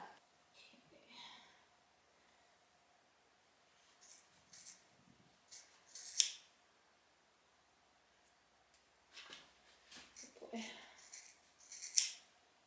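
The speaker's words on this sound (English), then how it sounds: "These scissors are probably duller than anything from being out here" Quiet snips of dull scissors cutting a horse's hair at a barn, coming in short irregular bursts with soft rustling between them.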